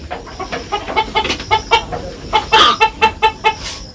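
Village hens in rural Bangladesh cluck in quick, repeated bursts, with several close birds calling in an uneven rhythm and no talk.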